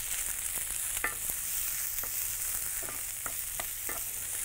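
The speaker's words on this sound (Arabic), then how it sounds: "وتعالوا نحط دلوقتي البصل ونحط الكرفس والجزر، مجرد نشوح الخضار" Onion, celery and carrots sauté in oil and butter in a pan, a steady bright sizzle running throughout with scattered utensil scrapes and stirring clicks at irregular intervals, close and fairly loud, no talking.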